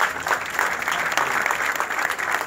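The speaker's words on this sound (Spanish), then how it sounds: "Por eso es un fuerte aplauso para todos ellos" An audience at a local community event in Arroyito applauds loudly and steadily, a dense wash of many hands clapping.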